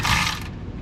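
A ratchet with a wobble socket clicks briefly up close, a quick rapid burst of pawl ratcheting while prepping a mud racing vehicle.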